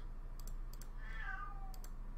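A pet cat gives a single drawn-out meow, fairly quiet, over faint computer keyboard typing and clicks with a low electrical hum underneath.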